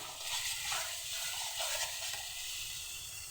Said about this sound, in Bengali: ভালোভাবে পুরো মশলাটা কষিয়ে নেব।